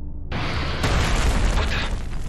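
Missile explosions in the space-combat video game Everspace 2, a sudden loud boom that erupts after a brief quiet moment and rolls on as a dense, rumbling blast lasting about two seconds.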